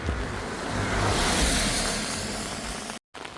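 Rain falling while walking along a road in the evening, a steady broadband hiss with some wind rumble at the microphone, fairly close and continuous, broken by a brief dropout near the end.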